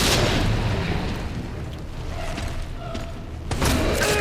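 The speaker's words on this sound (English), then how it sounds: "Let's make sure we got our hand grenades equipped. Let's toss one." Hand grenade explosion in Resident Evil 2, a heavy booming blast at the start fading into a rumbling tail, with a second loud burst near the end.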